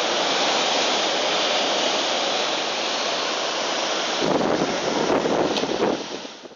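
Strong storm wind roars over high sea waves on the coast at Beirut, a loud continuous rushing broken by a heavier crashing surge near the end before it eases off.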